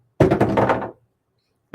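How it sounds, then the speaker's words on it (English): A heavy metal D20 die clatters across a hard surface in one quick rattling roll lasting under a second, close and loud, then silence before another brief hit at the end. "That's the sound of a metal D20"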